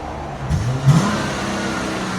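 A 2016 Chrysler 300S V6 with a resonator delete revs once, a short rising engine swell that settles into a steady moderate drone.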